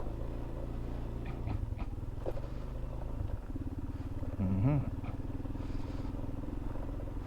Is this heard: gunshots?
no